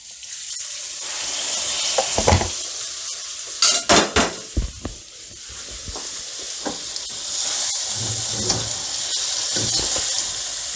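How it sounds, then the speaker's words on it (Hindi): Lamb jalfrezi masala being stirred and scraped around a cooking pot, with steady sizzling and hiss throughout and sharp metallic clinks of a spoon against the pot near the middle; no one speaks. "अब हंडिया में जो थोड़ा सा इसका मसाला लगा वो मैं मिक्स करके वो इसमें डालूंगी।"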